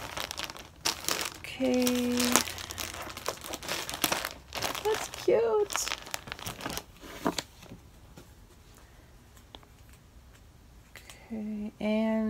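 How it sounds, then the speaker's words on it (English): Packing tape pulled off the roll and pressed onto a shipping package, giving crinkly, tearing bursts and squeals in several runs, with a person talking briefly in between. "I have to put more tape on there because I didn't do a good job on that."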